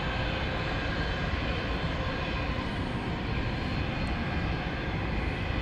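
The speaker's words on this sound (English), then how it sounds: "Warming up those engines." An Airbus A300 warms up its jet engines at DFW airport, a steady, loud, broadband roar that holds evenly throughout without other sounds.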